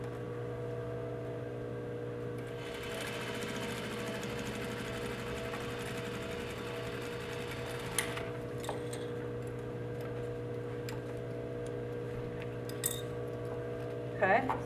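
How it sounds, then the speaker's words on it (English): A sewing machine runs steadily, stitching across the end of a double welt pocket with its lining attached, a close, even mechanical whir that continues throughout, broken by a few clicks and clinks near the end. "We want to sew that across."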